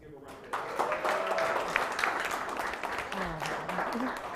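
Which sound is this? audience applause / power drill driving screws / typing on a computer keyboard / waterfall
audience applause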